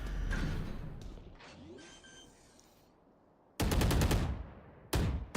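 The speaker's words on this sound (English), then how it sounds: "Here's the gunshots." Automatic gunfire in the tactical shooter Valorant comes in two loud, sharp bursts of rapid shots, the first long and the second short, following quieter game effects and faint distant shots.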